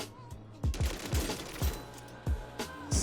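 Gunfire from a 60-round drum gun in Warzone Rebirth Island, short bursts of rapid, punchy shots with tight gaps between volleys, loud and close.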